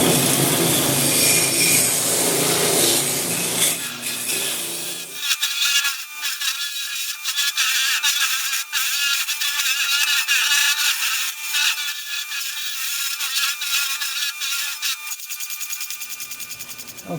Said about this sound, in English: I'm also going to use the roller on the sand flea to smooth this out a bit too.